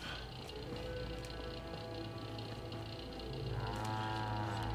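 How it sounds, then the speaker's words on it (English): Cow lowing in the video game Fallout 4, a drawn-out tonal moo rising over a steady hum of game ambience and music, with a second longer bellow near the end. "It is a levitating cow."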